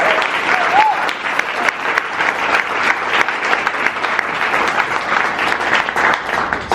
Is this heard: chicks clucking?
no